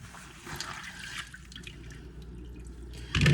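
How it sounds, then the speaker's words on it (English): Hot water running and splashing in a kitchen sink during dishwashing with bleach and dish detergent, close trickling and drips, ending with a louder gush of water. "right now I'm just cleaning, using hot water, bleach, and palm olive dish detergent"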